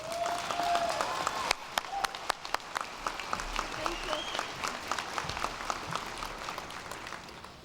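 A large audience at a December 2010 university commencement ceremony breaks into sustained, dense applause welcoming a speaker, steady clapping filling the hall for several seconds.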